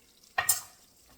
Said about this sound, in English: we're going to stir it up real good, as you can see